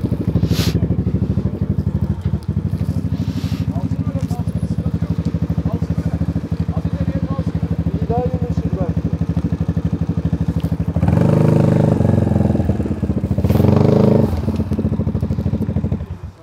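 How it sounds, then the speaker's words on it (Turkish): A motorcycle with its muffler removed idles and revs loudly nearby, a rough, crackling exhaust rumble with two louder throttle bursts near the end, while people talk over it. "ne ses çıkıyor egzozundan"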